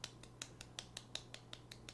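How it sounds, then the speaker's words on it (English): Slow, evenly spaced light golf claps, about five per second, each one sharp and quiet over a steady low hum, during a Football Manager game. "It's a very long golf clap."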